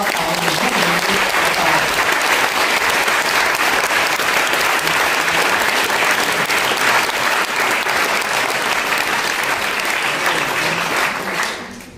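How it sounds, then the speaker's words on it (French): An audience applauds three women guests at a French-language talk, with steady, dense clapping throughout that stays even and fades slightly at the very end. "Vraiment, applaudissons-les toutes les 3."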